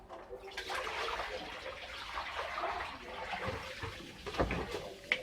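Cloudy rinse water from preparing mie ayam is poured out and drained, a close, fairly soft splashing flow with a few sharper splashes and knocks near the end.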